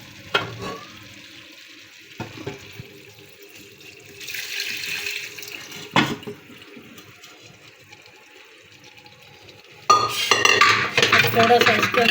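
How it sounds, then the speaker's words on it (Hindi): Water splashes loudly into a cooking pot of goat trotter paya near the end, after quieter clinks of utensils and a faint sizzle. "थोड़ा सा इसके अंदर पानी ऐड कर देंगे।"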